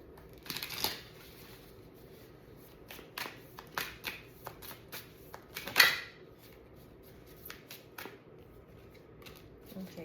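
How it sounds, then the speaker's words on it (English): Tarot cards being shuffled by hand in a quiet room, with a run of soft riffling bursts, a few sharp slaps and taps spaced irregularly, and one louder snap near the middle, all close and fairly faint. "let's get a few shuffles."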